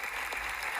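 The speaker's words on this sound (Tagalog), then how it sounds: "Syempre, may naunang pumalakpak." Legislators in Australia applauding Marcos Jr, heard as a steady wash of clapping from a crowd that holds at an even, moderate level throughout, with no voices over it.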